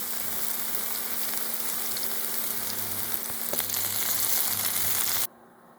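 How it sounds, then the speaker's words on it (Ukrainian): Wild winter honey mushrooms frying in oil in a skillet make a dense, steady crackling sizzle that grows slightly louder before cutting off abruptly near the end. "Поки обсмажуються грибочки"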